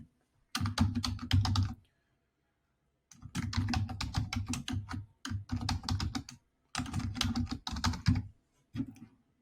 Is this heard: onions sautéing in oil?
no